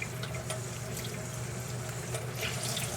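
Running water from a tap rinses dye out of tie-dyed fabric in a sink, a steady, moderately loud splashing wash with no talking.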